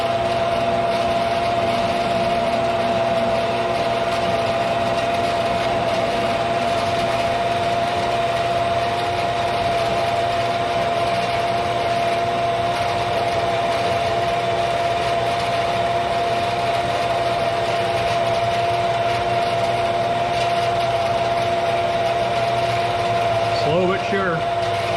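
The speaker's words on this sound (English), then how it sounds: "That seems the way I can get a good miter with this saw anyway." Power saw cutting a miter slowly through 1/8 inch metal stock while building a blacksmith table, a steady loud grinding whine with a sustained tone running throughout.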